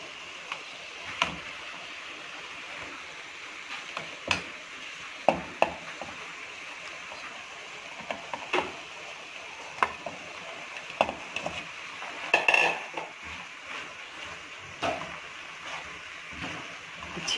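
Chicken pasta being tossed and stirred in a pan over high heat, with faint scraping and clinking strokes repeating irregularly over a quiet background hiss, without any talk.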